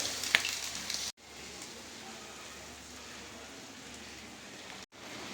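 Thin rava dosa batter sizzles on a hot pan with a steady, hissing crackle. A sharp clatter opens the sound, and two brief dropouts interrupt it.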